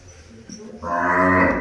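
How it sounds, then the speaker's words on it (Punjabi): A young cow calf on a cattle farm gives a single loud, rising moo at close range after a short quiet moment. "ਆਹ ਬਾਈ ਇਹਦੀ ਵੱਛੀ ਆ"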